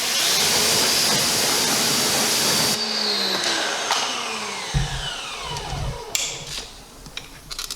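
Water spraying onto a car wheel, a loud steady hiss that cuts off partway, followed by dripping, clatters and fading sprays, with no talk.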